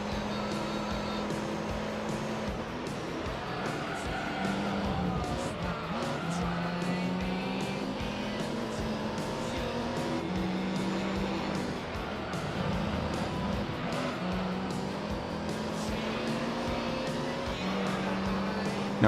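Gran Turismo 3 A-Spec racing game car engines droning continuously, revving up and shifting through gears with steady rising and falling pitch, alongside occasional tire noise, no talking.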